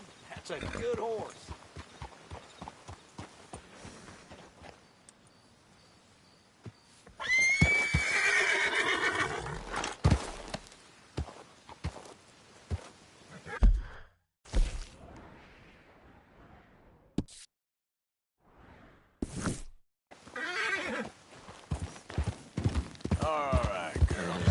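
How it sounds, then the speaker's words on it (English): A horse in Red Dead Redemption 2 neighs loudly and whinnies, with hoofbeats and footsteps scattered around it; the sounds come in bursts separated by near silence. "That's a good horse."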